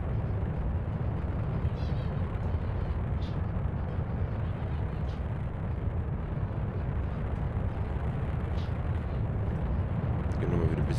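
A rocket engine thrusts steadily in Kerbal Space Program, a loud, continuous broadband roar holding level throughout, with someone talking over it.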